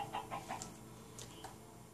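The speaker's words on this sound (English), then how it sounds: "What did you do to that chicken thing?" A chicken clucks in the Minecraft video game, a few soft, quick clucks over a faint steady background hum.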